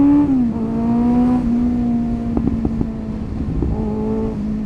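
A powerful motorcycle is ridden through Belgrade, its engine a loud, close, steady drone whose pitch dips and rises with the throttle, with no talking over it.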